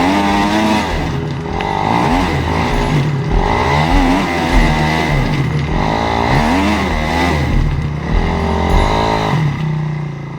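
A dirt bike engine revs hard and repeatedly, surging and dropping in pitch as the rider wrestles the bike up a steep hill. It is loud and close throughout, with no pauses.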